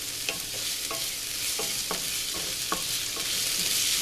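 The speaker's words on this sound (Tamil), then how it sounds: "இப்போ இதை நல்லா வெங்காயம் வந்து நல்லா வதங்கணும்." Onions sauté in a pan for shark puttu, giving a steady broadband sizzle with a spoon stirring and scraping at intervals of roughly half a second.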